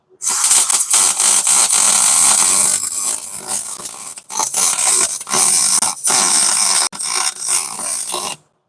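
A welder running hot lays a bead, giving a loud, close, steady buzzing crackle in long bursts broken by short pauses, with no talking.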